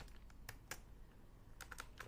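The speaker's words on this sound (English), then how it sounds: "So I'm just typing Lofi music" Light typing on a computer keyboard, a scatter of quick separate key clicks with short pauses between bursts, close and fairly quiet.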